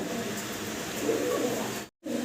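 Fancy pigeons, including a pair with their young, coo in soft, low, rolling murmurs close by, with the sound cutting out briefly near the end.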